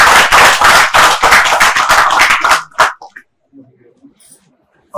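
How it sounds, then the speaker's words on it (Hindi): An audience claps hands in a burst of quick, close, loud claps for about two and a half seconds, trailing off into near silence with a few faint stray sounds. "चलिए ताली बजाओ।"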